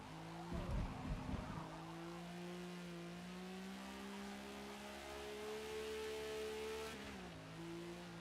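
A vintage Le Mans sportscar in the racing game Forza Motorsport brakes late, with a brief tire squeal early on, then a steady engine drone whose pitch drops near the end before rising again.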